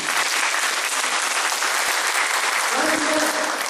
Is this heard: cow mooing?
no